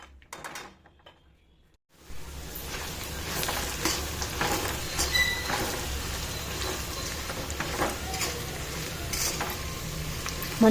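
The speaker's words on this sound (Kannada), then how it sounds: "ಮೊದಲು ಶೇಂಗಾನ ಫ್ರೈ ಮಾಡ್ಕೋಬೇಕು ಅಂದರೆ ಚೆನ್ನಾಗಿ ಕ್ರಿಸ್ಪಿ ಆಗ್ತದೆ" Peanuts frying in oil with cumin and mustard seeds give a steady, close sizzle with faint stirring scrapes. It starts after about two seconds of near silence and runs on at an even level with no talk.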